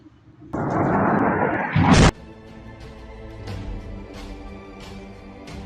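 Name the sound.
massive explosions from a strike on a bridge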